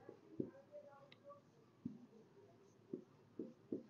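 A pen on paper while a math problem is worked out, giving faint, sparse taps and short scratches at irregular intervals, with quiet background noise between them.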